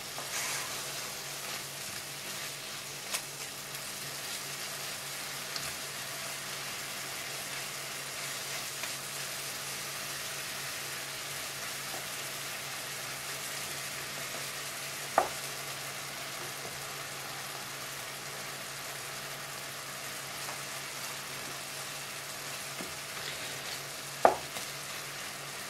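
Chicken pieces fry in a pan for Chinese soup, giving a steady, quiet, continuous sizzle throughout with a few faint clicks and stirring taps.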